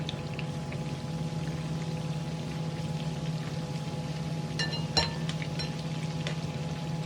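Beignets fry in hot oil, a steady, dense sizzle that holds evenly throughout, with a few sharper pops and crackles near the end.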